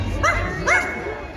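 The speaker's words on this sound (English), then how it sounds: "Where is that dog?" A dog gives two short, close barks in quick succession, then falls quiet over low background noise.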